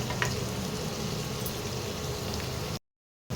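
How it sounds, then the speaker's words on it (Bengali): Chopped onion frying in a pan over medium heat, a steady soft sizzle and bubbling hiss that runs evenly and close, then cuts to silence near the end before resuming. "মিডিয়ামে রেখে পেঁয়াজটাকে একটু ভাজতে হবে।"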